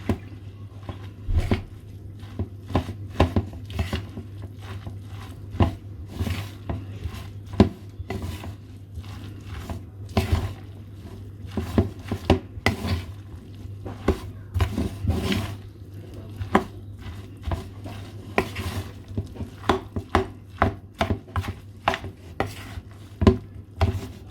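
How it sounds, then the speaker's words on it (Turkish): A mixture is stirred in a bowl, with a rapid series of sharp taps and scrapes of a utensil against the sides, close and fairly loud over a low steady hum, with no speech. "Ben şunu karıştırayım güzelce"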